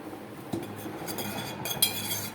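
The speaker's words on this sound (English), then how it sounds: "You make sure that you are gently stirring while you're melting it" A utensil gently stirs melted beeswax and shea butter in a pot, a quiet steady scraping with a few light clinks against the metal, close and soft with no voices.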